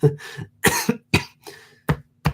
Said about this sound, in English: don't know why I'm still coughing so much